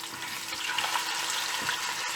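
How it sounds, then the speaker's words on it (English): Steady crackling and sizzling of fish frying in hot oil, continuous and close, with a few faint clinks. "turn it around and fry the other side"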